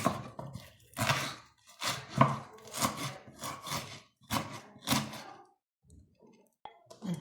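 A knife chops a cold ingredient on a board for a beef and green pea stew, a run of about eight firm, close strokes in an uneven rhythm, followed by a few softer taps in a quiet kitchen.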